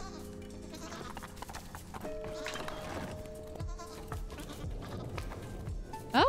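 Goats bleating in the puzzle video game Creaks, several short bleats over quiet game music and footsteps, ending with a brief louder effect.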